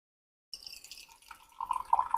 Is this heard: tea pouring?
yes